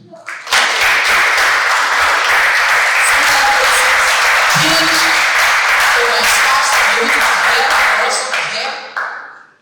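Sustained applause from a conference audience in a hall, loud and dense clapping lasting about nine seconds before tapering off at the end.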